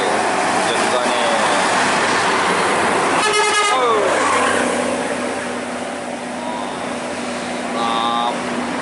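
Intercity buses around a bus terminal in Indonesia, with heavy traffic rumble, a rapid burst of horn toots and a shorter honk later, loud and close, with people talking in the background.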